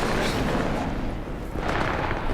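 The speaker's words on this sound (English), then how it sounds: "I hear gunshots and explosions" Dense, continuous gunfire and explosions rumble together in a steady, loud barrage with no pauses, in Cyberpunk.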